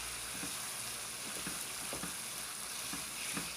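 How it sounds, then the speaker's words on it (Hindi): Mutton keema sizzles and fries with masala in a pan, a continuous close crackle with occasional stirring scrapes and no voices. "कीमे को भी मसाले के साथ हम अच्छी तरह से तकरीबन 6 से 8 मिनट तक फ्राई कर लेंगे"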